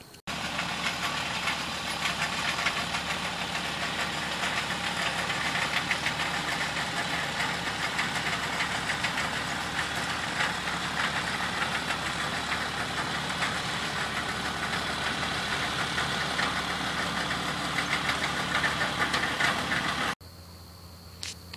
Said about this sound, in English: that machine we just saw is called an inverter, and its job is to invert the peanuts like we see here